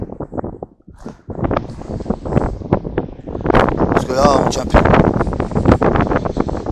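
Gusty wind buffets the microphone with low rumbling bursts outdoors while someone speaks in French over it, the noise swelling louder in the second half.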